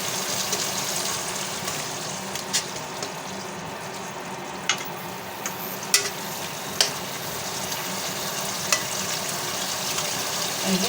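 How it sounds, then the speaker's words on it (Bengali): Potatoes and cauliflower fry in hot spiced oil in a pan, giving a steady, dense sizzle with occasional sharp pops and spatters, close and fairly loud, with no one talking. "আমি এখন এই আলু এবং ফুলকপিটা কষিয়ে নিই"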